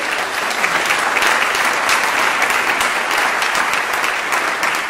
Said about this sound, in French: vous pouvez l'applaudir chaleureusement pour l'encourager